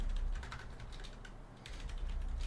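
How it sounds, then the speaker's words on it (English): Rapid, repeated presses on the number 5 key of a computer numpad while playing Path of Achra, giving soft clustered clicking that runs in quick bursts, near and low in level, with no voices. "I just spam 5 on my keyboard"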